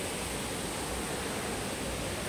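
Water crashing at the base of Kuthumkal Waterfalls in Rajakkad, a steady, dense roar that stays even and loud throughout with no breaks.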